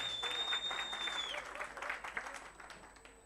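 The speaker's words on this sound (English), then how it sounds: "Please, can we give him a round of applause?" Workshop audience giving a round of applause, a dense, continuous wash of clapping that holds steady and then thins slightly, with a high electronic tone running through it.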